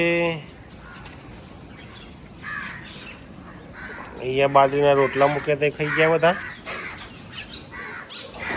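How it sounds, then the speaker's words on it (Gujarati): Harsh bird calls, crow caws and myna chattering, ring out in a loud burst midway, with a person speaking before and around them outdoors. "કાગડા કાબરો આવ્યા છે"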